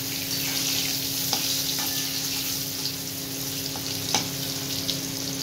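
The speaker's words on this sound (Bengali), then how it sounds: "এগুলো একটু ভেজে নেব।" Boiled eggs and boiled potatoes coated in turmeric fry in hot oil, giving a steady, close sizzle with a few sharp clicks and pops, no voices.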